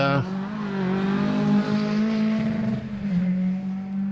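A loud race car engine at a hillclimb holds a steady, droning pitch close by, dipping briefly near the end, with a voice talking over it.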